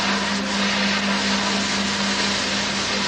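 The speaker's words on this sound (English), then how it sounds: "the sound you hear in the background is that of the unit changing DC to AC" An inverter unit in a research lab hums as it converts DC to AC. The steady, loud tone is mixed with broad hiss and stays even and unbroken throughout.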